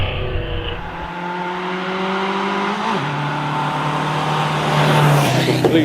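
A vintage sports car nicknamed the toy climbs at the Prescott Hill Climb, its engine droning loud and near with rising revs, a gear change dropping the pitch midway, then climbing again.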